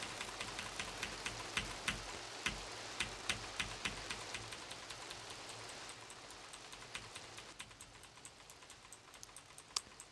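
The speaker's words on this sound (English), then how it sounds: "I love the sound of the rain" Steady rain falls in Grand Theft Auto 3, a dense hiss dotted with sharp droplet ticks and patters recurring all the way through at a moderate, even level.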